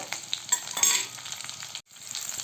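Six garlic cloves, two dried red chillies and two bay leaves sizzle in hot oil in a pan for a tomato masala curry, a steady close crackle with a short break near the end.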